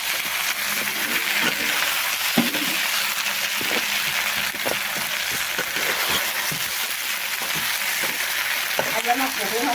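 Potatoes and local chicken meat fry together in a pan with a continuous close sizzle, dotted with small clinks and stirring knocks throughout.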